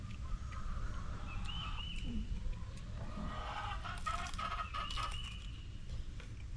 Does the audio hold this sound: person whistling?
no